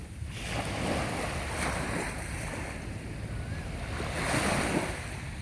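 Sea waves roll onto Pattaya beach, a continuous surf roar swelling and easing, with gusty wind buffeting the microphone.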